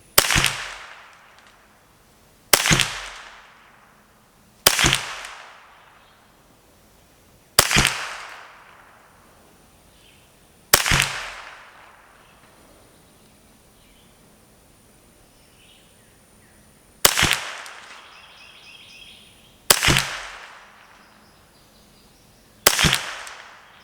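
Sharp, loud gunshots from a Ruger 10/22 rifle with a Kidd barrel firing Eley match ammunition, eight spaced single cracks each trailing off with a short echo outdoors.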